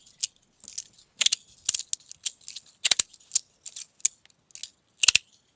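Magnetic fidget slider clicking nearby: sharp, crisp metallic snaps in an irregular rhythm, roughly a dozen clicks with brief silences between them and no voices.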